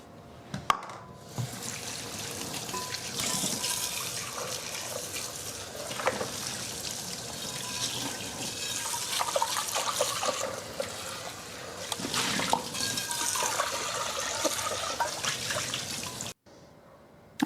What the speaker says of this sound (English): And I wash the spoon also, the cups.